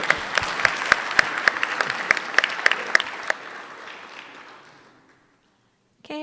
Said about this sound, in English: We can clap for him anyway.